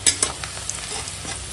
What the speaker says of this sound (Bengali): এই মাছ ভাজা তেলে পেঁয়াজটা ভেজে নেব পেঁয়াজ কাঁচা লঙ্কা